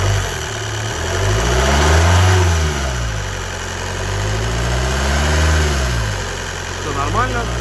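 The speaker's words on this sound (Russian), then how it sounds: "Ну, собственно, вот мотор работает." A car's 4D20 diesel engine idles up close, rising twice into revs that swell and fall back, with a steady mechanical hum underneath.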